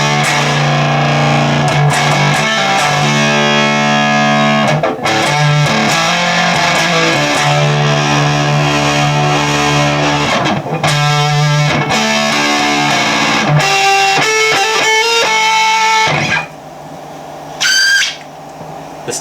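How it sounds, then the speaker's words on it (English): A home-built germanium guitar pedal pushed into wild self-oscillation by its stability knob, giving loud distorted guitar tones that break into squealing, swooping whistles and octave-like warbles near the end, with no talk. "The stability knob makes it go crazy, which is what that noise was."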